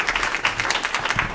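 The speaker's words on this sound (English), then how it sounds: "One more round of applause." A short burst of brisk applause from a gathered audience at a city committee meeting, continuous and fairly close.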